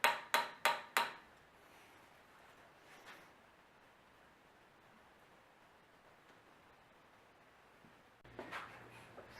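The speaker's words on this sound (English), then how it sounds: "I'm trying to hit it hard enough to flatten it, but not to thin it." A hammer strikes a metal sousaphone pipe four times in quick succession to flatten it, sharp close clanks, followed by a quiet stretch with a faint knock and then some rustling handling noise.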